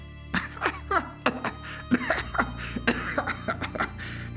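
A run of repeated coughs from a man with a niter-induced cough, harsh and close, coming in uneven bursts with short gaps between them and no talking.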